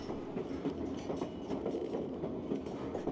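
Alaska Railroad passenger train rolling steadily along the tracks, a continuous rumbling clatter of wheels and cars heard from on board with faint rhythmic clicks, no voices.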